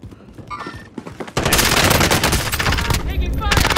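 Dense gunfire from Call of Duty: Modern Warfare erupts after a quieter opening with a few scattered shots and a brief voice, then holds as continuous loud automatic bursts through to the end.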